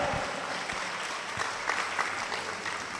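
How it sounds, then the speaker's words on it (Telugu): A church congregation claps loudly and steadily, a dense, continuous wash of applause from many hands filling the room for the whole stretch. "గట్టిగా చప్పట్లు గట్టిగా"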